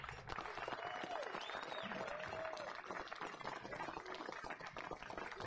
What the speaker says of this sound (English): we have a round of applause for all our players for this event